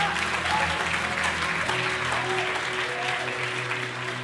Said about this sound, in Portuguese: Se for para Ele, pode aplaudir mais forte.